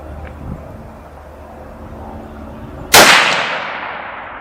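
A single sharp rifle shot from a Winchester XPR in 6.5 Creedmoor firing Federal Fusion ammunition, a loud crack after quiet outdoor ambience, trailing off in a long echoing decay.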